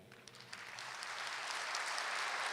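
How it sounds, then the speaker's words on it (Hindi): Audience clapping at a spiritual talk builds from scattered claps into steady applause, quiet and somewhat distant, with no voices over it. "ताली बजाइए।"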